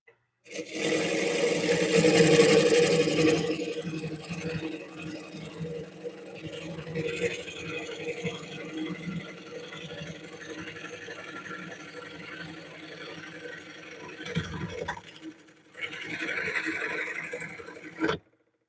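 A wood lathe turns small wood cut-offs while a gouge cuts, giving a motor hum and scraping hiss that is loudest at first and then steadier. There is a short pause and a final burst of cutting, with occasional talk.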